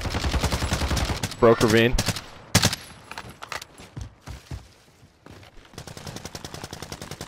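Video game gunfire comes in rapid automatic bursts and single shots, loud and close in places, with a player talking over and between the shots.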